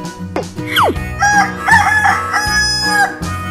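A rooster crows a full cock-a-doodle-doo, loud and close, with a sweeping opening call followed by sustained wavering notes over a musical backing in a children's animal cartoon.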